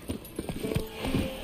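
A horse's hooves clip-clop in a quick, steady gait in The Witcher 3, the footfalls fairly close and distinct with no talking over them.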